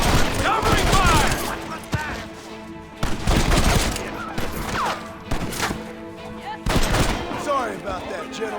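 Rapid bursts of gunfire in the Western video game Red Dead Redemption on PS5, loud repeated volleys of shots with sharp cracks and echoing tails, mixed with shouting voices between the bursts.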